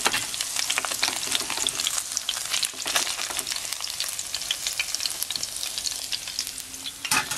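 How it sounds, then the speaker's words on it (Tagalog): Milkfish (bangus) fries in a pan with a dense, continuous crackling sizzle, close and steady throughout, with occasional louder pops and spatters. "tostado itong ating piniprito'ng bangus"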